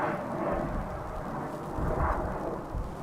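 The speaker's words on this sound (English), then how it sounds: "Hearing a plane, but I don't see it." A distant airplane engine rumbles at DFW Airport, a low, broad roar that swells and fades slightly over a few seconds, heard alone with no talk.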